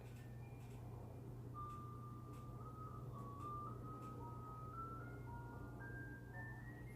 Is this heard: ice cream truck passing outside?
yes